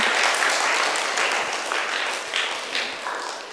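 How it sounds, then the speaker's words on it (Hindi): Sustained audience applause at a community Buddhist vihara programme in Nagpur, a dense wash of many hands clapping steadily from start to finish, fairly loud and close, with no talking over it. "जोरदार तालियां इनके लिए"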